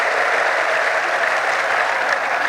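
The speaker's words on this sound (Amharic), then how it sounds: "እልልታ ጭብጨባ ይሁንለት" A church congregation bursts into steady, loud clapping during a sermon, a dense, even wash of applause that holds without a break and has no talk over it.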